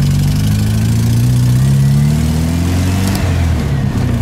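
A Volkswagen Super Beetle with a 1776 engine runs cold, a loud, steady air-cooled rumble with slight shifts in pitch as it settles, close up and with no voices.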